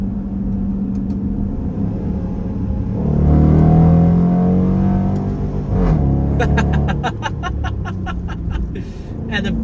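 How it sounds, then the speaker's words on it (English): A Dodge Durango R/T with a Hemi V8 in track and manual mode revs up through a gear change, its engine surging, dropping at the shift and climbing again. Loud and close, with a voice speaking and chuckling over it. "let's listen to some of these shifts here."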